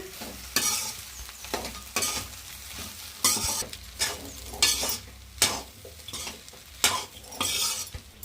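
Egg fried rice being mixed and tossed in a pan, a spatula scraping and clanking in repeated regular strokes over a soft sizzle, close by and alone without any talking.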